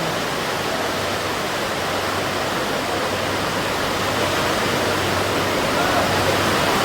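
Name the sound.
rain falling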